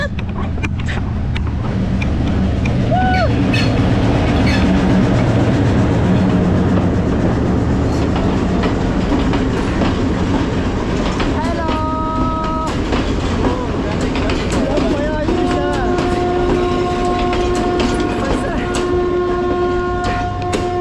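A train rolls in and passes close by, a loud continuous rumble and clatter of wagons with steady whining tones and brief horn-like blasts, filling the whole stretch without talk.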